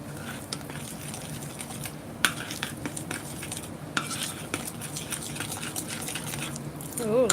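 Banana fritter batter is mixed in a bowl, with quick irregular clinks and scrapes of a utensil against the bowl, close and steady throughout, with faint background kitchen sounds.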